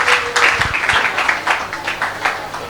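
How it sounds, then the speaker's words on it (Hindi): Congregation at a Hindi prayer meeting in Naigaon claps hands in thanks to Jesus, a fairly loud, steady burst of group applause throughout. "इसलिए आप लोग तालियां बजाकर प्रभु यीशु को धन्यवाद दीजिए।"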